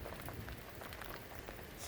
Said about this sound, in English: Sleet, Yes. freezing rain.